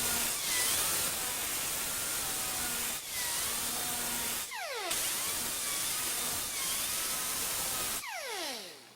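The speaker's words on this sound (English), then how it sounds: "now we'll fine-tune the edge with the grinder" A grinder fine-tunes the edge of a bandsaw-cut door panel from a modular street-rod door panel system, a sustained close, harsh whir broken by several brief stops where the motor whines down and spins back up.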